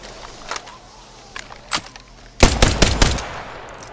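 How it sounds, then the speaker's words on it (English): A Prowler SMG submachine gun firing in a first-person video game: a few scattered clicks and shots, then a loud, rapid burst of automatic fire lasting under a second near the end. "Prowler SMG here."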